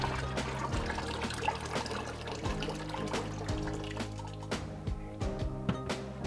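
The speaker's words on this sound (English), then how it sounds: "So let's just add in a bit more water." Water is poured into a batch of homemade mango wine, a close, continuous trickle and splash with small bubbling drips that rise and fall over a few seconds.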